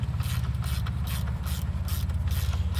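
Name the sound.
ratchet tightening a nut on a Mercury outboard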